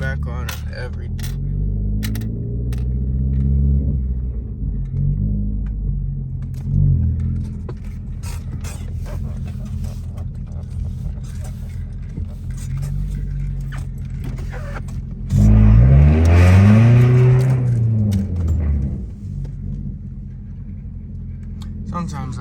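A 2016 Ford Focus with straight-piped exhaust, muffler and resonator removed, idles with a loud, close, raspy drone, rising and falling, then revs sharply in a rough roar before settling back; keys jangle briefly.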